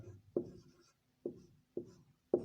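A maths step is handwritten with a pen or marker, producing four distinct scratchy strokes with short pauses between them, close and quiet.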